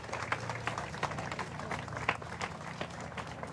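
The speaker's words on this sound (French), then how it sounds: "tous les supporters des McCann qui les applaudissent à la sortie de l'église" Scattered clapping from a crowd of McCann supporters gathered outside a church in Portimão, Portugal, steady and fairly close, with a low murmur of voices and street noise underneath.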